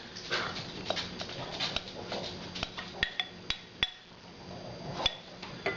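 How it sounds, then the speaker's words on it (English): Vegetables go back into a pan of thickened, simmering sauce. A series of sharp metallic clinks and taps of a utensil on the pan comes close and distinct, spaced irregularly over a soft background hiss. "So we'll put the vegetables back in."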